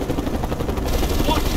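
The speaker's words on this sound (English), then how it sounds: "Enemy helicopter in the air!" Enemy helicopter in the Mercenaries 2 video game, a steady rotor drone under bursts of gunfire and shouted combat chatter, loud and continuous throughout.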